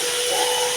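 Chopped raw mango dropped into hot oil seasoned with dry fenugreek, giving a steady, loud, close hiss of frying throughout with no talking.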